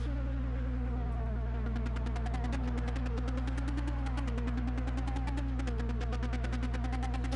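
A race car engine in the video game Project CARS drones steadily under rapid buzzing, rattling pulses, loud and close throughout with no voices.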